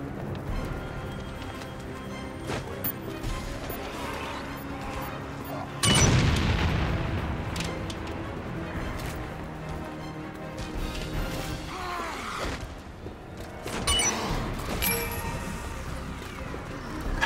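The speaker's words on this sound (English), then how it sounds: "I know I just used a grenade on that" A grenade blast in the video game Umbrella Corps bursts out loud and sudden partway through, followed by lingering rumble and scattered game noises, with later smaller impacts.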